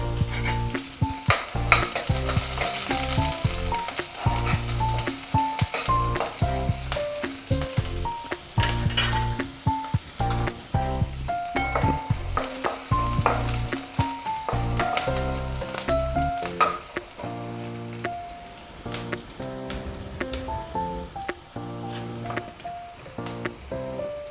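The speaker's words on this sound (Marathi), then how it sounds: "लसूण टाकलेला आहे. आपण कांदा टाकून घेऊयात." Half a chopped onion joins garlic sizzling in a pan for cabbage manchurian, a continuous frying hiss with stirring scrapes, accompanied throughout by prominent background music.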